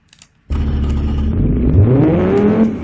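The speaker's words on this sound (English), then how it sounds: "Engine starts right up and it works okay." A tuned car engine in the Automation game cranks and catches after a brief click, then settles into a rising, revving hum with a climbing whine before easing off.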